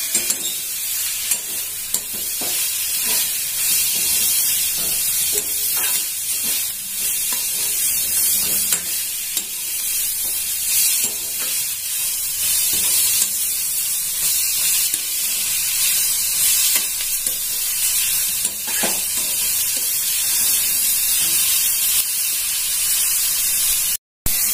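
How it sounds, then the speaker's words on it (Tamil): Shredded cabbage with boiled egg and cooked moong dal is sautéed in a pan, giving a continuous bright sizzle and hiss for over twenty seconds, with occasional soft stirring scrapes and no voices. "வேக போட்டிருந்த முட்டை போட்டு பயத்தம் பருப்பு ரெண்டையும் போட்டு சிறிது நேரம் கொஞ்சம் வதக்கணும்"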